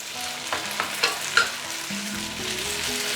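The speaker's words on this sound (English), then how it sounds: "Let's char this, keep on stirring, and let's char this for approximately maybe 3 to 5 minutes" Flat rice noodles sizzle and char in a hot wok as they are stirred, with a steady frying hiss, a few scraping clinks of the spatula against the metal, close and fairly loud.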